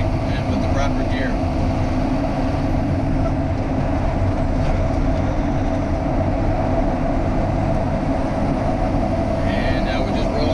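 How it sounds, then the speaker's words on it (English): Loaded semi truck using its engine brake in gear while descending foggy Cabbage Hill on I-84 in Oregon, a steady loud low rumbling drone inside the cab that holds constant throughout. "Just use the engine brake and with the proper gear."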